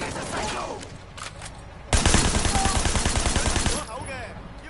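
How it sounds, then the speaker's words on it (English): Blind-fire gunshots in Sleeping Dogs: a sudden loud burst of rapid automatic fire lasting about two seconds, set against quieter game ambience and some speech. "I think I got a headshot on him with blind fire."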